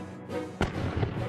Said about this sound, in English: He imagined firing a cannon from the top of an extremely tall mountain.